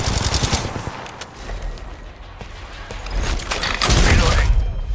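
Rapid automatic gunfire bursts in the mobile battle royale game Apex Legends Mobile, loud and close, with clustered shots in two main volleys and a brief lull between them.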